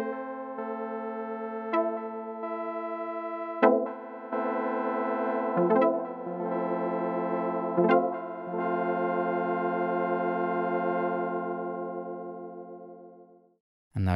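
A Korg DW-8000 synthesizer patch plays sustained tonal notes, each attack followed by a repeating echo-like envelope pulse, new notes entering every couple of seconds before the sound fades out near the end.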